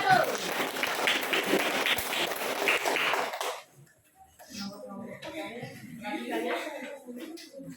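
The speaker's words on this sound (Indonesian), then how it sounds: "Tepuk tangan dulu buat kelompok 1." Classroom applause for a student group, a short burst of clapping from the class that stops abruptly, followed by quieter shuffling and voices talking.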